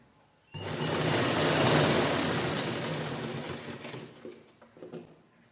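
A sewing machine stitches layered strips of leftover blouse fabric for a festive door hanging, starting with a sudden close whir that runs steadily for about three seconds, then slows into a few short, stuttering bursts.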